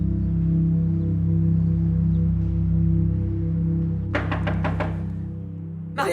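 Several quick knocks on a door in a French drama scene, sounding as a short close burst over a steady low hum, with a single further knock at the very end.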